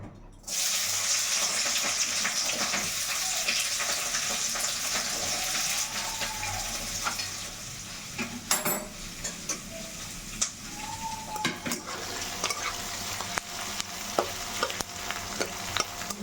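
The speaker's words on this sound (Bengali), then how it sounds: "পেঁয়াজটা আগে ভেজে নিই" Onion frying in a pan for a chicken dish, a steady hiss with faint stirring and scraping and a few clinks, close and continuous, with no talking.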